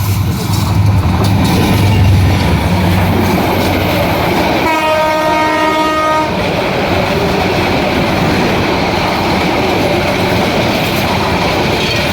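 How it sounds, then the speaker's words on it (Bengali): The Burimari Express, a meter-gauge intercity train in North Bengal, rumbles past loud and close, its horn blaring in one sustained blast midway while wheels clatter steadily throughout. "চলে আসছে আন্তনগর বুড়িমারি এক্সপ্রেস ট্রেন দেখুন এটিও কিন্তু মিটার গেজ লাইনের ট্রেন"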